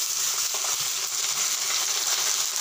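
Potatoes fry in hot oil with garlic cloves and spices, giving a steady, close, crackling sizzle that holds evenly throughout, with no voices.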